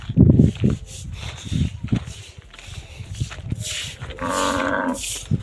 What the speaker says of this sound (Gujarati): ગાય સવારની બૂમ પાડે છે અત્યારે બી બૂમ પાડે છે